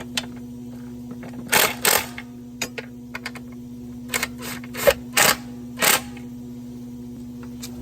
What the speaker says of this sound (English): Use our 15mm socket here to tighten that up.